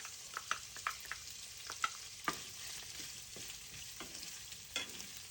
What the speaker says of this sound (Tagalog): Ilagyan natin ng konting mantika. Tapos ilagyan natin yung sibuyas.